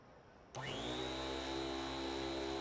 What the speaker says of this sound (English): That's a hell of a vacuum sound.